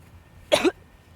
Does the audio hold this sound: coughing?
yes